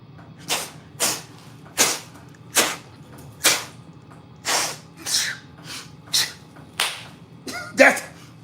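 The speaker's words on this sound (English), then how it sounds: "That's the gnat clap right there." A series of a dozen or so sharp hand slaps, clapping together to kill gnats, spaced roughly every half to three-quarters of a second, close and crisp with a little breathy noise near the end.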